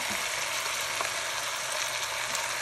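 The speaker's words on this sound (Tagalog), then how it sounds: "Habang ginigisa ko siya, lalagyan ko siya ng konting toyo para kumapit." Chicken pieces sautéing for adobo in a pan give off a steady, close sizzle that holds evenly from start to finish, with faint stirring scrapes underneath and no talking.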